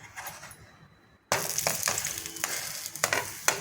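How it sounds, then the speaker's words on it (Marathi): Gakar flatbread roasting in ghee on a hot pan gives a close, steady sizzle and crackle, with brief scraping and pressing taps after a quiet start. "दोन्ही साईडने खरपूस भाजून घेऊ"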